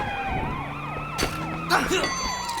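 A police car siren in a video game wails continuously with sweeping, overlapping tones throughout, with brief bursts of in-game noise layered over it.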